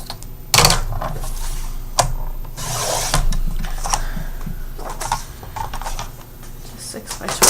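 A blade trimmer slices a sheet of pink paper, giving short raspy sliding cuts and sharp clicks up close as the blade moves, with a person talking nearby.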